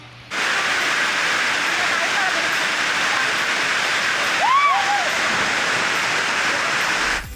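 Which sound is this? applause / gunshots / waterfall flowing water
waterfall flowing water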